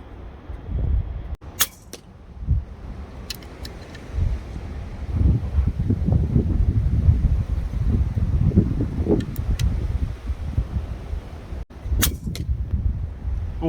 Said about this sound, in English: that wind had really picked up then